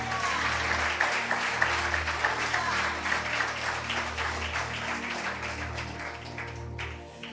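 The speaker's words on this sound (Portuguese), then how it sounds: "Vamos aplaudir a Jesus por isso?" Church congregation applauding during a Sunday service in Lisbon, a dense, sustained wash of clapping that fades out near the end, with a voice heard underneath.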